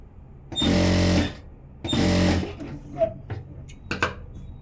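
A sewing machine stitches a blouse in two loud, close bursts of steady motor whir and needle rhythm, separated by a short pause, followed by softer handling clicks and rustles.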